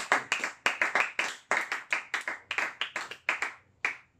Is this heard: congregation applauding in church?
yes